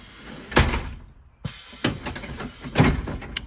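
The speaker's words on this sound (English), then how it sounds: "here's our air powered door" Air-powered passenger door of a 2012 Blue Bird Vision bus cycling, with several pneumatic hisses and thumps as the door swings and seats, close and fairly loud.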